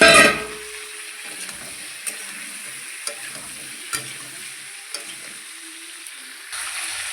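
Pre-fried pointed gourd and potato go into a hot frying pan, a loud burst of sizzling at first that settles into a steady low fry, with soft stirring scrapes and a few sharp taps of the spatula against the pan.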